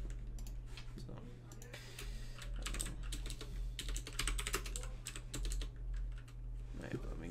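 Rapid, loud clicky typing on a knockoff mechanical keyboard with blue switches, heard up close as continuous bursts of sharp key clacks over a low steady hum, with a voice speaking at moments.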